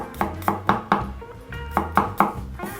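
A knife chopping garlic on a cutting board, a quick steady run of about ten crisp close thuds in an even rhythm.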